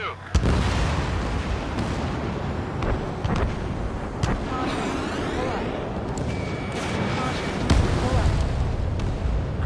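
Missiles launch and explosions boom in the Ace Combat 7 air combat game: repeated sharp bursts and heavy blasts over a constant roar of jet engines and battle noise, with radio voices talking.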